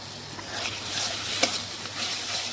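Spices with chili powder stirred and sautéed in a hot pan for a gourd curry, a steady close sizzle with scraping stirring strokes and one sharp clink midway.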